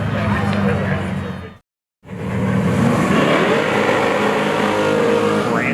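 A Mustang street race car driven by Brandon Tuck pulls up and accelerates with a loud, sustained engine roar that is cut briefly by a dropout, then rises again in pitch as it revs. A commentator talks over it.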